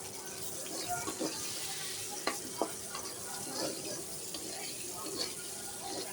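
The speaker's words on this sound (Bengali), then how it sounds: "এটা আমি তেলে ভেজে নেব পেঁয়াজের সাথে।" Shrimp and onions fry in oil for a noodle dish, a steady close sizzle broken by scattered spatula clicks and scrapes as the pan is stirred.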